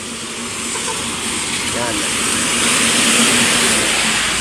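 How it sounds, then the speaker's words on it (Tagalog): Trucks rumbling past on a road during Typhoon Ramil in Quezon Province, a broad rushing roar with wind hiss that swells toward the end, while a voice speaks briefly over it. "May nadaan pa mga truck o."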